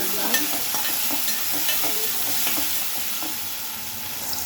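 Chopped onion and tomato sizzle and fry in a pan, with a spoon stirring and scraping at a steady, close rhythm throughout, no voices.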